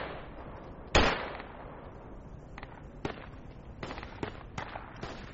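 Gunfire in the military shooter Project Reality: one sharp, loud crack followed by a scattering of fainter, distant single shots over several seconds, with no talking.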